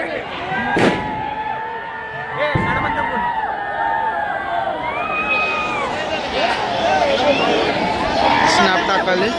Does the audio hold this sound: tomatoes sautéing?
no